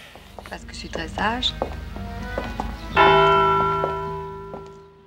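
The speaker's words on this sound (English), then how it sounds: "I love how the bell comes in at this moment" Church bell tolling in a film scene on an open village street, a strong ringing strike entering around three seconds and decaying slowly, over background voices and music.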